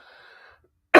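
A single short, sharp cough from a person with a sore throat after weeks of illness, close and loud, following a moment of faint murmur and silence.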